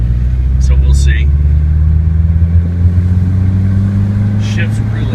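A Lancia Zagato Abarth car engine drones steadily and loudly while driving, a low continuous rumble with faint brief voices over it.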